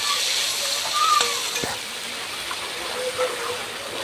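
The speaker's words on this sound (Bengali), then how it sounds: "আমি পেঁয়াজটা একটু ভেজে নেব।" Chopped onion frying in the hot oil left over from frying chicken for a home-style roast, giving a steady, soft sizzling hiss throughout with a few faint clicks.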